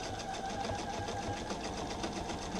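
A sewing machine stitches through the thick, roughly eight-layer seams of a pair of pants with a steady, fast, even motor hum and needle chatter, quiet and close, with no talking.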